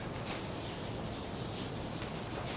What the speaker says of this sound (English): We're going to give the inside of the bag a spray